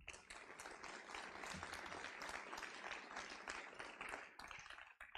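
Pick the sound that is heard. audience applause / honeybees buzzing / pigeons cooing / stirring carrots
audience applause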